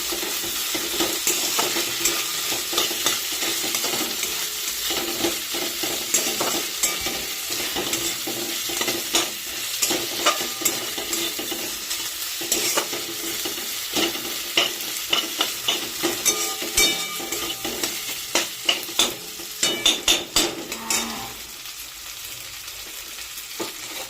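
Chicken fries with ginger-garlic paste in a home kitchen pan, a steady close sizzle running throughout while a utensil stirs and scrapes in repeated strokes that grow more distinct toward the end.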